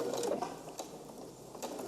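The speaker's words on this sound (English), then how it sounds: "I do a few stitches in the beginning" Sewing machine stitching darts on the back skirt piece of a dress, a faint, quick run of mechanical stitching ticks heard up close.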